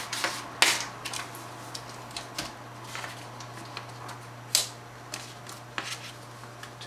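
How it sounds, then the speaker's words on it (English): An IBM Selectric electric typewriter typing: scattered sharp key strikes, some louder than others, over a constant low motor hum, heard up close with no talk. "Now let's do a typing test."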